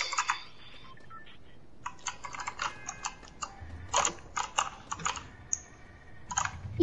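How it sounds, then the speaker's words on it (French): A noisy computer keyboard clacks under fast typing during a game, with clustered sharp key strikes close up and brief pauses between bursts. "Il fait trop de bruit mon clavier."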